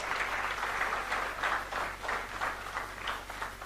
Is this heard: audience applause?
yes